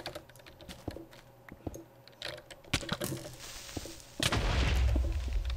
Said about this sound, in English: Oh my, that was an explosion. There was a creeper under that hole.